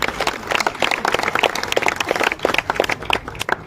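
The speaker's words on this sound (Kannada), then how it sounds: "ಅರ್ಥ ಆಗಿದ್ರೆ ಚಪ್ಪಾಳೆ ಹೊಡ್ರಿ ಅವಳು" An audience at a Kannada religious discourse claps in a burst of irregular, overlapping hand claps, fairly loud and close, rising and falling for a few seconds.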